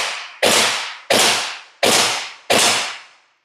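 Modified Classic Army dual-barrel airsoft gun firing four loud, sharp shots in an even rapid rhythm, each crack trailing off into a short decay, heard close up with no talking.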